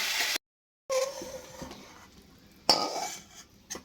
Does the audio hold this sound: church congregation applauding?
no